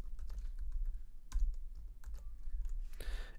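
Fingers type on a computer keyboard while entering network settings, a quick irregular run of close key clicks with a louder cluster of strokes near the end, no voices.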